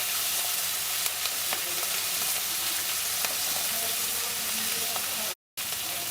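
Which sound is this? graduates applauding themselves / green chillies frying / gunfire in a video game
green chillies frying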